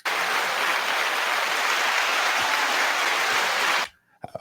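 Loud, sustained audience applause fills the space evenly for nearly four seconds, then cuts off abruptly into near silence with a couple of faint stray sounds.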